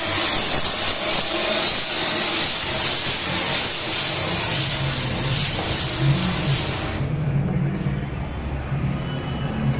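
A pressure cooker in a bachelor room hisses steam in a loud, steady rush that cuts off abruptly near the end, leaving a quieter low rumble.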